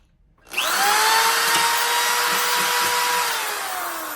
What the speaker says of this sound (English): I'm gonna drill a little hole here.